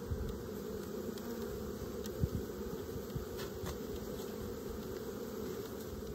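Dense, steady buzzing of many honeybees swarming around an open hive in early spring, close and continuous, with occasional louder passes of individual bees.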